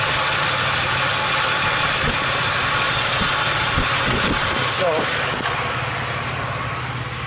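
Chevy Impala engine running with a wiring fault on the 24x crankshaft signal, a loud continuous close idle drone whose pitch wavers briefly midway as the RPM shifts, then settles steady.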